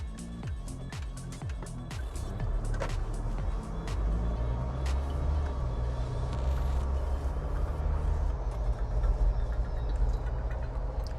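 Mahindra Thar with a 2.2 liter diesel engine under way, a steady low engine drone with rising tones as it accelerates, plus clicks and rattles inside the cabin; no talking.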